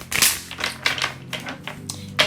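Tarot cards riffled and shuffled by hand in short crisp bursts of papery flicks and snaps, close and fairly quiet, with brief pauses between the shuffles.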